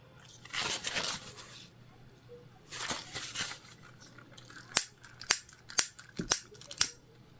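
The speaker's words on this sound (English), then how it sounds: "I'm going to trim up any extra threads." Scissors snip several times in quick succession, crisp and close, trimming leftover threads on a sewn fabric mini bag after softer handling rustles.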